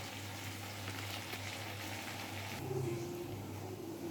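Mutton frying and steaming in a pan for kosha curry, a soft continuous sizzle with a low hum beneath it and no voices.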